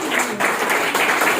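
Audience applause at a public event in Chhindwara, a continuous bright patter of many hands clapping for the whole stretch, fairly close, with brief murmured voices beneath.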